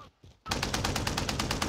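Rapid automatic gunfire in Call of Duty Warzone bursts in loud and close after a brief quiet lead-in, a steady stream of evenly spaced shots running to the end with no talk over it.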